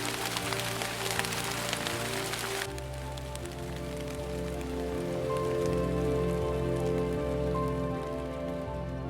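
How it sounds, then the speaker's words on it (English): Heavy rain drums steadily on the roof of a Tesla Model Y parked in Iceland, heard from inside the car as a dense, continuous patter with a low hum underneath and no talking. "The rain is kind of getting a bit heavy."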